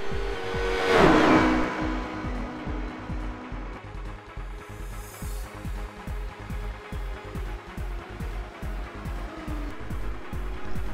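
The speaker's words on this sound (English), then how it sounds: "David's exit speed was better and he carried more speed through Eau Rouge" Race car engines in the iRacing sim at Spa roar and buzz continuously, with rhythmic pulsing and a passing car sweeping by loudly near the start before the steady engine drone carries on.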